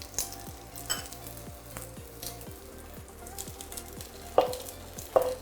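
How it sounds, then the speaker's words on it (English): Cauliflower frying with onion in a pan, a continuous close sizzle with regular ticking crackles and a couple of sharper utensil clinks near the end. "Now add some cauliflower to it."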